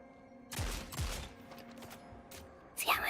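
A new rifle fires in the video game Destiny 2 as two sharp shots crack close together, followed by fainter rattling gunfire and a burst of bright effects at the end.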